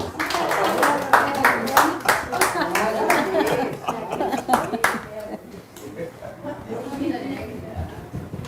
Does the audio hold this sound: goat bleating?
no